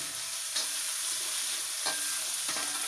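Green chilies and curry leaves fry in hot oil in a pan, giving a steady dense sizzle with a few brief scraping stirs of a spoon partway through.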